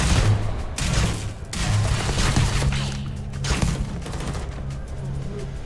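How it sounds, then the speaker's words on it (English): A grenade and gunfire in the video game Starfield: loud, dense rolling explosions and bursts of shots, close and continuous, with game voices faintly underneath. "Uh-oh, that's a grenade."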